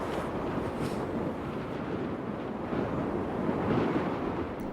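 Strong wind buffets along a mountain snow ridge in the dark on Mont Blanc, a loud, continuous low roar with gusty swells and no voices.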